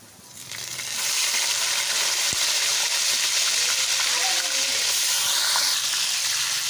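Chicken pieces go into hot garlic ginger paste in a pan and break into a loud, continuous close sizzle that holds steady to the end, with a faint clink partway through.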